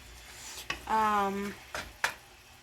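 Fajita meat and vegetables sizzling in a pan, a soft steady frying hiss with a few clinks of a utensil stirring, while a person speaks nearby.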